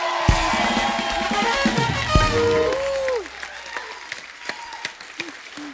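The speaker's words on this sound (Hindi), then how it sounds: "जोरदार तालियां हो जाए एक बार।" A studio audience on The Kapil Sharma Show claps loudly for a few seconds, the applause thinning out into scattered claps as it fades.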